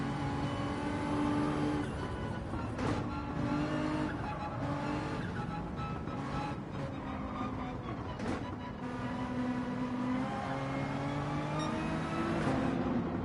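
Race cars roar around a track in Gran Turismo 7 during a World Manufacturer Cup qualifying race, their engines dense and continuous, with rising and falling revs and tire squeal throughout, the field close and loud.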